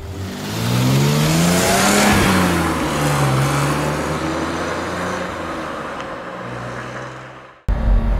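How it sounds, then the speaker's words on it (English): A BMW E30 320i Touring with a naturally aspirated 2-litre inline six revs hard and close, its engine note climbing and falling in pitch through several sweeps before cutting off abruptly near the end. "So that engine, wow, listen to it. 2 litre, inline six, naturally aspirated."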